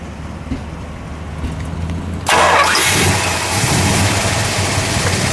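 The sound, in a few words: V8 muscle car engine starting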